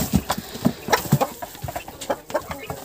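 Cochin chickens clucking close by in a farmyard, a run of short, soft, irregular clucks from several birds, fairly quiet with no speech over them.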